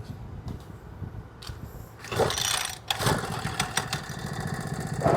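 A new Makita four-stroke brush cutter being started, first faint pulls and sputters, then the engine catching and settling into a fairly quiet, steady idle close by.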